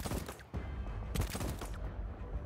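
Rapid gunfire from weapons in the video game Voidtrain, a dense run of sharp shots with bursts near the start and again around the middle, loud and close throughout.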